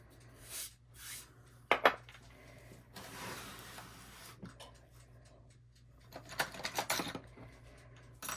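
A clean bowl is fetched in a home craft space, with a few scattered clinks, a sharp ceramic clack and soft rattles of dishes between quiet pauses.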